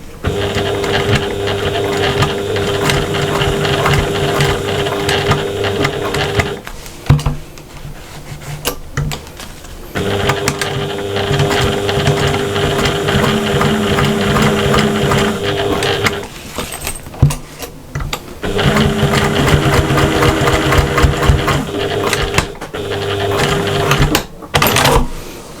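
A domestic sewing machine runs in steady stretches of top stitching around a small square on a fabric cross body bag, with short pauses between runs and mechanical whirring and clicking close by.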